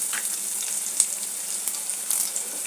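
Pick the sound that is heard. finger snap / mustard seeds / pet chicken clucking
mustard seeds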